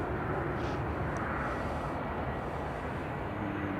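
A TUI Boeing 787 Dreamliner leaves Manchester Airport for Palma de Mallorca, giving a steady, distant jet-engine roar as a broad rumble that holds level throughout.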